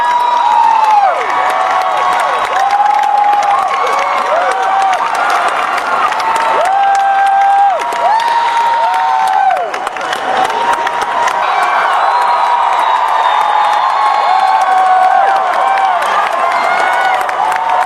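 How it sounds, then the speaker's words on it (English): Studio audience on its feet for a celebrity's entrance, roaring, whooping and clapping loudly and continuously for nearly eighteen seconds, with shrill whistles and shouts riding above the din. "A studio audience is on its feet, cheering, clapping, roaring for the man who just walked out."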